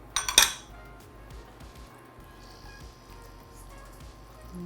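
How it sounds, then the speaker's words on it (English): Ricotta cheese being stirred into a zucchini lasagna in a skillet, with a burst of close metal utensil clinks and scrapes against the pan at the start, then quiet soft stirring. "the next thing we're going to stir in is ricotta cheese"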